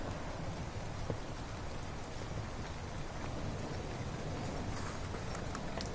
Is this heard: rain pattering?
yes